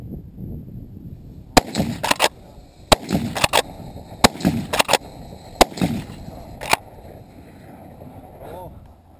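Four sharp gunshots from a bolt-action carbine at an outdoor range, spaced roughly a second or more apart, each a loud crack with short echoes trailing off, wind noise and quiet background between them.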